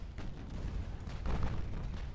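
Small 3-inch naval guns on armed transports fire in the naval warfare game Ultimate Admiral: Dreadnoughts, giving muffled, rumbling booms that roll together at a moderate distance.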